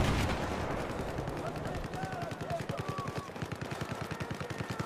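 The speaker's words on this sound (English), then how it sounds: "Alright, Cap's on railgun. Not railgun, chain gun" Rapid rhythmic bursts of a chain gun firing in a military video game, a steady mechanical stream of shots close and loud, with players talking over the radio at the same time.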